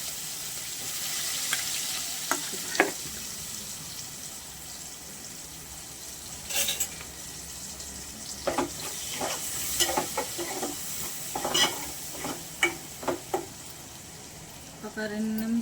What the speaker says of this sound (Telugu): ఒక 2 నిమిషాలు ఉల్లిగడ్డ ఫ్రై కావాలి.